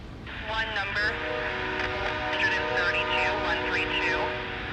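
A CPKC ES44AC locomotive leads an intermodal freight train past at Matsqui, British Columbia, its horn sounding in long sustained tones over a steady rumble, with voices talking nearby.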